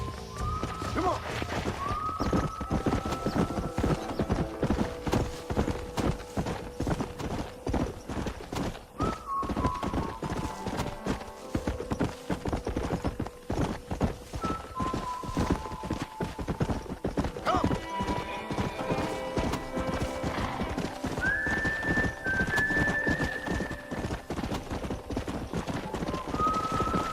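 Horses gallop with steady, rapid clip-clopping hooves and occasional whinnies in Red Dead Redemption, a loud, continuous run with rising neighs over a musical score.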